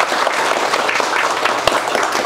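An audience bursts into loud, continuous clapping for a speaker at a mobile phone repairing institute, a thick, steady wash of applause with one sharper clap standing out near the end.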